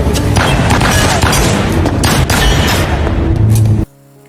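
A loud, dense film explosion roars in a sustained, heavy blast filling the whole mix, then cuts off abruptly to near silence.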